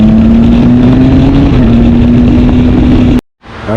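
A Triumph Street Triple R motorcycle engine idles loud and close with a steady hum that rises slightly, then cuts off abruptly before a brief rev returns.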